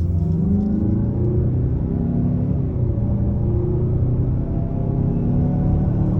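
A 2022 Mazda CX-5 Turbo accelerates at about half throttle, its engine a steady low droning rumble with rising harmonics heard from inside the cabin, continuous and moderately loud.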